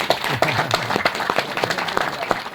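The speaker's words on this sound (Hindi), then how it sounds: "एक बार इनके लिए भी खूब सारी तालियां।" An audience at a speech event in Surat claps enthusiastically, sharp individual claps standing out over a moderate, steady round of applause.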